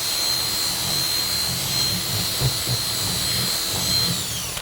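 A power drill bores a hole in the foam insert of a FatMax airbrush case, its high steady whine running throughout with a few soft bumps as the bit cuts, alone and close.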